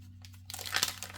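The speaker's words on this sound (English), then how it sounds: "So let's pop this open and see. Feels like vellum." Crinkly vellum paper packaging being opened during a scrapbook supply unboxing, a brief rustle and crackle that builds from faint to a sharper crinkling burst, close up over a low steady hum.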